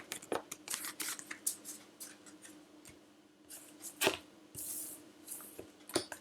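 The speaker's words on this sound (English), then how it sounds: "Let's put these cards away." Tarot cards being gathered up and put away, with quick papery flicks, soft slaps and shuffling rustles in irregular bursts, close and clear with no speech.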